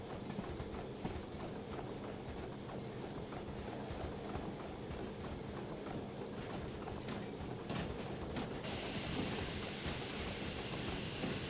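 A locomotive rolls along the line in the rail simulator Derail Valley, a steady continuous rumble with rhythmic clacking from the wheels and a hiss that brightens near the end, with no talking over it.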